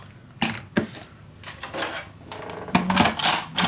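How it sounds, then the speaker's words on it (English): Black scrapbook paper being trimmed shorter with a cutter, giving a few sharp clacks and scraping cuts close by, with no talk. "let's cut this a little shorter."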